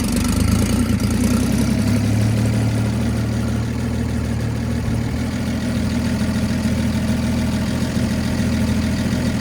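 A 1952 International L-100 pickup with its 220 inline six and glass pack muffler idles steadily, a loud, close, low burbling rumble with an even pulse and no talk.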